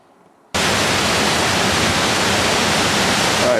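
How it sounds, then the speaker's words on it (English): Roaring Falls on the Roaring River in Kings Canyon, a loud, steady broadband roar of rushing water that starts abruptly after a brief quiet moment and holds constant close by. "this is Roaring Falls, and not surprisingly it's on the Roaring River"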